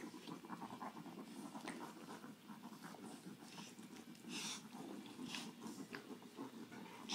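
Close, wet, snuffly breathing from a congested nursing mother dog runs steadily throughout, with rustling and small snorts mixed in, fairly quiet.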